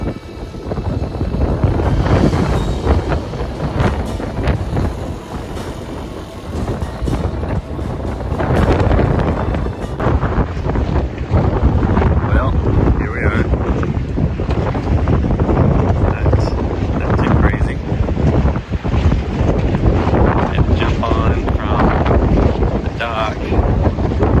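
Strong Hurricane Helene winds roar and buffet the microphone continuously at a marina, with water churning and boat rigging rattling beneath the gusts.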